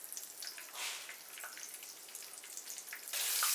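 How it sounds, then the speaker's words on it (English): Country fried cube steak sizzles in a hot pan, a soft steady crackle with small pops that swells louder near the end. "But watch it sizzle and watch it fry."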